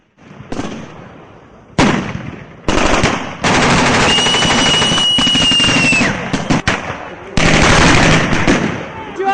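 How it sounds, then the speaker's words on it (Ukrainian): Pyrotechnic blasts and gunfire at a battle reenactment, heard as loud, near, dense rapid-fire crackling bursts separated by brief gaps, with one sustained stretch of continuous firing and explosions. "величезна кількість піротехніки, наче справжні вибухи та постріли"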